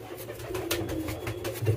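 King pigeons cooing in a loft, low throaty coos rolling on steadily and close by, with no talking.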